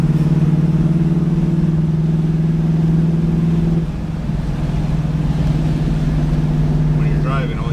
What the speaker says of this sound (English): We're gonna take it for a little test drive. You know, make sure it works okay at full throttle and so forth.